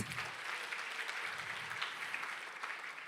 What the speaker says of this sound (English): Please do a round of applause.